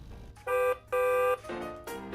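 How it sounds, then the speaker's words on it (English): A toy driving controller's horn button plays an electronic car horn, two bright synthetic honks followed by a couple of softer tonal blasts, short and close. "This one will be the horn."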